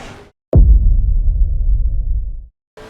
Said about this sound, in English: Car on the right.